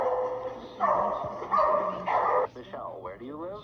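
Dogs bark and yip from a video playing in the room, three loud barks in quick succession followed by a short whine, with people talking over them.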